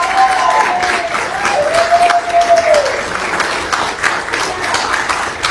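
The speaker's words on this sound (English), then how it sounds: "Let's give them a round of applause." A crowd applauds a mother and father at a political event, with sustained clapping from a large audience throughout and a whistle sounding early on.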